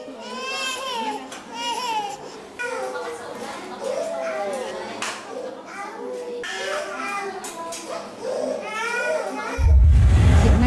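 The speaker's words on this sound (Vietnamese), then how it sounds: "khoa cấp cứu trẻ em trong viện bỏng quốc gia hầu như ngày nào cũng vang tiếng khóc của trẻ" Young children crying and wailing in a burns hospital emergency ward, several small voices overlapping in sobs and whimpers for most of the stretch, fairly close, ending in a sudden louder burst of noise.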